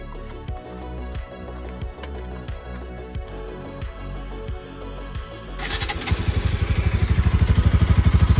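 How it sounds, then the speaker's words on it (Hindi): A Bajaj Pulsar RS200 BS4 motorcycle idles with a steady, pulsing exhaust grunt, then revs up sharply near the end into a louder, rapid, buzzing exhaust note, heard close with no talking. "तो RS 200 BS4 का एग्जॉस्ट नोट कुछ इस तरह रहा।"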